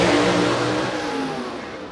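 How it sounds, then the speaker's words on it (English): Gasser drag race cars launching with wheels up at Shadyside Dragway, a loud close engine roar that swells and then slowly fades as the cars pull away, with no talk. "Wheels up on both cars."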